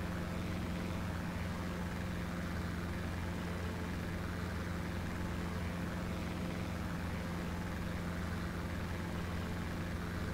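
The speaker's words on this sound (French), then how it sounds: "Alors j'espère que vous entendez bien le bruit. Ce magnifique et splendide DR400 140B." Simulated Robin DR400 140B single-engine light aircraft in X-Plane 11, its propeller engine droning steadily at cruise, loud and unbroken for the whole stretch with no voices.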